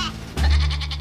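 A goat gives one short, close bleat, a loud nasal wavering cry lasting under a second.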